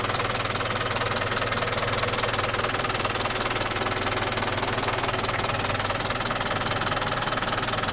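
An Isuzu Elf lighting truck's 3630cc engine idles steadily up close, a constant low rumble with a fast, even knocking rhythm throughout.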